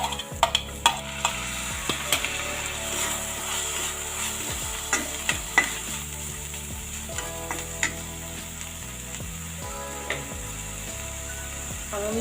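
Green peas stirred into frying masala in a pan for veg macaroni, a steady sizzle with repeated scraping spatula strokes and occasional clinks, close and alone without talk.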